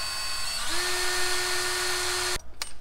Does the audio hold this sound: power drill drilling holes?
yes